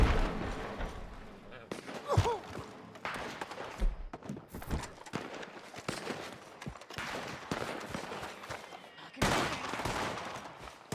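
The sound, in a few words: gunshots in the video game Red Dead Redemption 2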